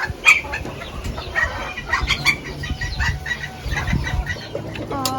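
Young farm turkeys hatched earlier in the year call with repeated short, bright clucks and chirps at close range on a ranch, with other fowl and farm ambience around them.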